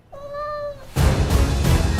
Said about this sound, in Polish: Czemu masz kota?